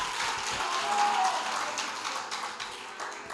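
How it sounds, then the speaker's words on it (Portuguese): A church congregation applauds in a steady wash of clapping that fills the room, moderately loud and continuous, with faint voices mixed in. "Se você está aplaudindo ao Senhor, você pode fazer melhor."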